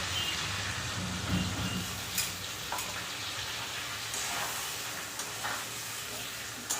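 Water is poured into spices sizzling in a pan while cooking an egg curry, giving a steady hiss and crackle at close range with a few faint clinks.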